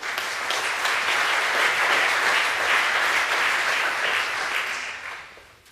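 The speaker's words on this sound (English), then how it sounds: "please a warm applause to Bengt Streijffert." Applause from an audience at an academic opening on innovation and cross-border cooperation. The loud, dense clapping holds steady for several seconds and then tapers off.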